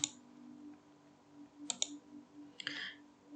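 Typing on a computer keyboard, with a few faint, scattered clicks and short key bursts over a quiet background hum.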